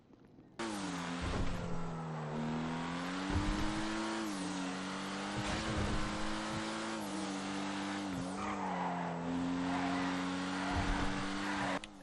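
The Vapid Sabot, a Ford GT90-styled sports car in GTA V, drives with a steady engine drone that rises and dips in pitch, while repeated tire squeals and skids cut through, loud and close throughout.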